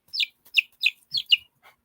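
Young chickens, chicks growing into pullets, chirp in five quick high peeps in a steady close run, then a fainter sixth call at the end.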